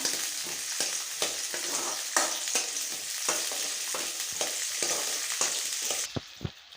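Onion and garlic sauté in a pan with a steady, close sizzle broken by repeated scraping stirs, the frying noise cutting out near the end and leaving a couple of sharp clinks.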